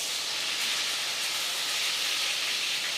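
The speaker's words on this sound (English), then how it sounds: "Hear that sizzle?" Steady, dense sizzling hiss fills the clip, a continuous crackle of chicken frying in a pan for chicken francaise, with no talking.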